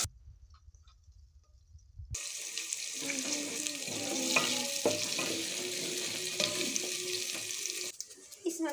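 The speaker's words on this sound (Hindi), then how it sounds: "ऑयल गरम हो गया है, अब मैं इसके अंदर प्याज डाल रही हूँ।" Chopped onions go into hot oil in a home kitchen, and a broad, steady sizzle of frying starts abruptly and runs loud and close for several seconds before it briefly drops off.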